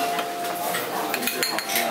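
Metal utensil clinking and scraping against a bowl while fish powder is stirred into chicken broth for tsukemen dipping noodles, a series of light, irregular close taps and scrapes with faint background murmur.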